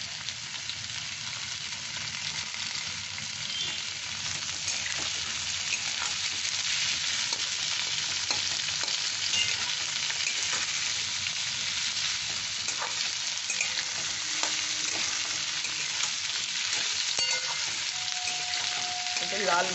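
Chicken with about fifteen soaked cashews sizzles in a hot pan for black pepper chicken, giving a continuous, busy crackle and spatter of frying with occasional stirring, close and steady with no talking.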